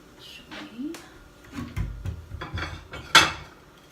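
Ceramic bowl and plate being handled in a home kitchen, several light clinks and knocks at an uneven pace with one sharper clatter near the end, while someone talks.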